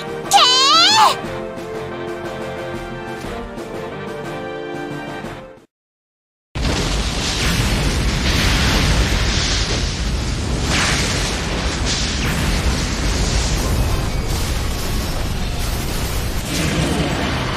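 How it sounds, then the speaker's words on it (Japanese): A chain of heavy explosions in the Galaxy Angel space battle game: after a tonal musical passage and a brief silence, loud booming blasts roar continuously, rolling one into the next with repeated bursts. "目標各部で爆発が連鎖。"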